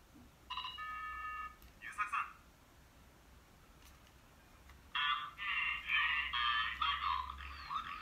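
A toy mobile-phone transformation device from the Sailor Moon and Gridman line plays small electronic beeping tones, a short burst of bright tones then a longer warbling electronic jingle, quiet and close.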